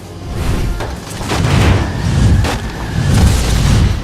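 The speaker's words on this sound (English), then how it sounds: "I can just blow this ship up and it doesn't bother me" Ship explosion in the Split/Second racing video game, a loud sustained rumbling boom with several swelling bursts over continuous low engine and road noise, no talking.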